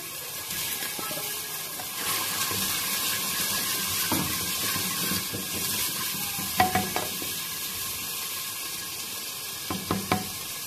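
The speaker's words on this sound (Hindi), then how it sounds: "अब हम टमाटर डालेंगे" Tomatoes fry in a hot pan for a black chana curry, a steady sizzle broken by several sharp stirring clinks and spoon knocks in the second half.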